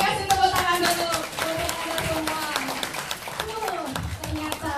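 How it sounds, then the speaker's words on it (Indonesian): An audience at a presentation claps together, a busy patter of hands running under a tonal backdrop, with brief talk and a voice mixed in. "kasih tepuk tangan dulu"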